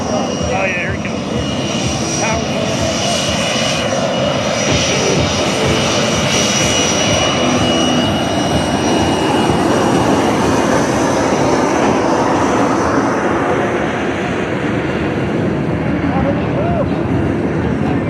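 A McDonnell Douglas Boeing F-15 fighter jet roars past at an airshow, a loud sustained broadband engine blast that swells and shifts in tone as it passes, with crowd noise and talk underneath.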